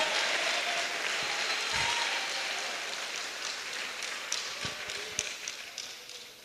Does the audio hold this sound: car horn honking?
no